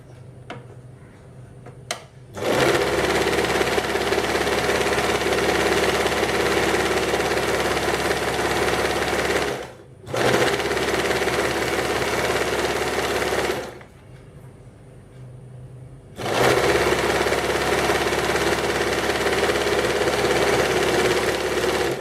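A sewing machine stitches the back part of a blouse, running loud and steady in three long bursts with short pauses between them, close by.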